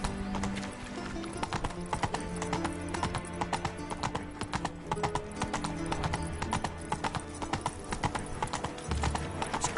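Roach, a horse in the video game Witcher 3, trots with steady rhythmic hoof clip-clops over a continuous bed of game ambience and music, near and clear throughout.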